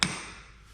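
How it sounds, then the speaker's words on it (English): A single sharp hammer strike on a piece of stone for a fireplace wall, a crisp close metallic crack that rings out and fades quickly. "When I was hammering on this piece"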